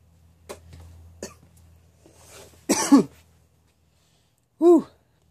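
A person coughs a few times after a puff from a Congestus vape mod, a cluster of sharp coughs followed by one more isolated cough, close and fairly loud with quiet room tone between.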